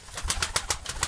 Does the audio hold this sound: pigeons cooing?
yes